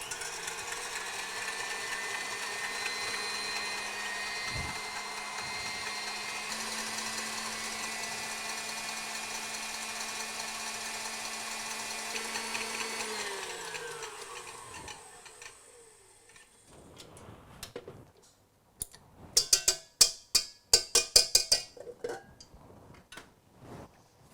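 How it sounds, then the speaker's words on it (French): An electric hand mixer whips cream in a bowl, a steady high whirring drone for several seconds before it winds down, followed by a cluster of sharp clinks and knocks. "nous allons monter la crème au batteur."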